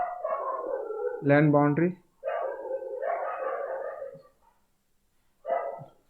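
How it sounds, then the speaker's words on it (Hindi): Street dogs barking in a lane, a burst of several quick, loud barks and yips nearby, set between stretches of a man lecturing indoors. "ये गली में कुछ कुत्ते हैं, उनकी आवाज़ आ रही है"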